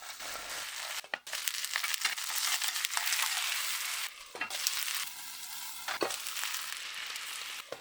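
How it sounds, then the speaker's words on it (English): Vegan bratwurst sautés in a pan with a steady, loud close sizzle and crackle, broken by brief scraping stirs, continuing throughout. "I think I'm gonna saute this bratwurst."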